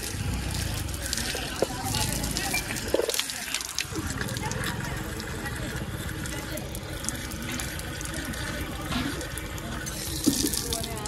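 Water splashing and rushing near a water tank in Tikapur Park, a steady broad wash of sound throughout, with people talking faintly over it.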